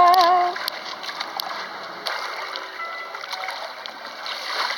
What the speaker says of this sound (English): It's nice and peaceful on this lazy river.